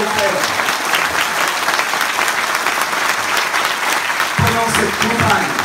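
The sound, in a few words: crowd applauding at political rally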